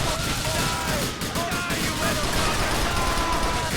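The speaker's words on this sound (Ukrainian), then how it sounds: "Це не пістолет, це якийсь кулемет в кармані." Automatic weapon fire from a compact machine gun in GTA: The Lost and Damned, a dense, continuous rattle of rapid shots that stays loud and steady throughout, layered with in-game action noise.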